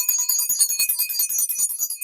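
A hand bell rung over tarot cards to clear them: bright, high metallic ringing with rapid repeated jingling strokes, close and fairly loud, sounding alone.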